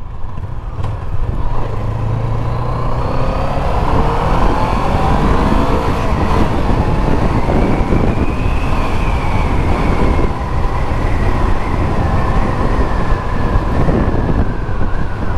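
A Fekon Glider 500s cruiser motorcycle lugging at low speed in high gear, a steady, close engine drone with rumbling vibration and rushing wind noise throughout.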